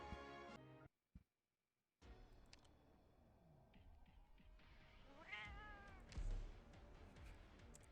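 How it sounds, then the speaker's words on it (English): A cat meows several times in the Monster Hunter video game, a soft close call rising among faint game ambience after a brief silent gap. "I love they add the meow."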